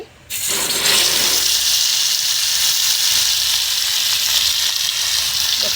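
Pieces of fish sizzle loudly in hot oil, a steady, dense crackle that starts abruptly after a brief quiet moment and carries on close and unbroken, with no voices over it.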